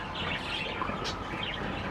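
Newly added birds chirp and call inside an aviary, faint scattered tweets over a steady bed of broadband background noise.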